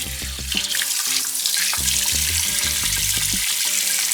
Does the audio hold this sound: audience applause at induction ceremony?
no